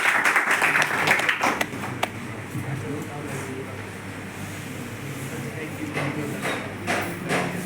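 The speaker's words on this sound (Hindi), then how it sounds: "एक बार जोरदार ताली शैलेश तिवारी के लिए" An audience claps for comedian Shailesh Tiwari at a stand-up and shayari show. The applause is loudest at the start, then thins to scattered claps over a steady crowd murmur.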